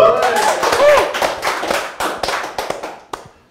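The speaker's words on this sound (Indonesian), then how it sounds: "Next Carlos, tepuk tangan." Audience applause greets a guest at a comedy roast show. Quick scattered claps follow a voice speaking at the start, then thin out into a few separate claps.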